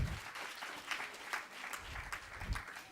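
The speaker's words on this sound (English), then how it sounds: "Let us give a round of applause." Light applause from a convention audience, a soft, distant patter of clapping over about three seconds.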